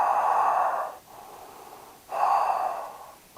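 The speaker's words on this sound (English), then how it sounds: "Couple breaths." Slow, audible breathing during a yoga practice: a long airy inhale, a softer exhale, then another strong inhale, close and alone with no speech.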